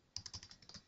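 Quick run of light keystrokes on a computer keyboard, about eight soft clicks in under a second, close and quiet with no talking.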